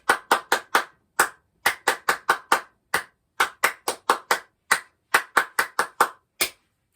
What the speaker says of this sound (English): you will just literally clap the rhythm